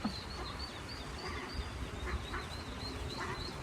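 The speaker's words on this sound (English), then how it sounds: "And there are some baby ducks." Baby ducks call in a quick series of high, repeated peeps and quacks, close by and fairly clear over a soft outdoor background, with no talking.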